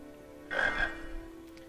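A single frog croak in the Harry Potter and the Chamber of Secrets video game, one short, throaty call heard clearly over a steady low background hum, with no speech.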